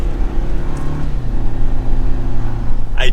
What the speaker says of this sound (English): You hear some good noises, some generic noises from the engine, but you do hear the turbo a little bit.